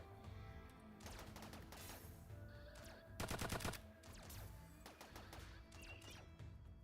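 Machine-gun fire in the RimWorld video game: several rapid bursts of shots and crashing impacts, with one dense, loud volley in the middle, amid busy combat noise.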